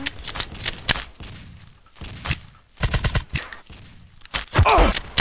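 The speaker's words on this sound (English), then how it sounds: "Who is shooting me?" Gunfire in the blocky shooter Blockade 3D cracks out in repeated sharp bursts, clusters of rapid shots separated by short pauses, loud and close, with a louder shot near the end.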